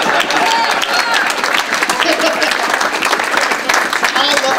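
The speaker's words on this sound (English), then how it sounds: "So give me some applause" An audience at a performance applauds steadily, with dense, continuous clapping that holds at an even, loud level throughout.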